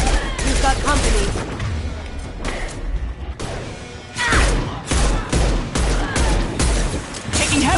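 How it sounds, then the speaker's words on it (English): Rapid gunfire crackles through a sci-fi firefight, dense bursts of shots and impacts stacked close together with brief pauses, loud and near, while voices shout faintly underneath. "Taking heavy fire!"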